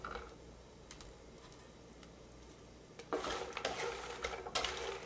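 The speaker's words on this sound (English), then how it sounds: "I'm going to just stir this hot oil, this garlic-flavored oil," A utensil stirs hot garlic-flavored oil into bread cubes in a pan, quiet light scraping at first, then a busier burst of clinking and rustling tosses near the end.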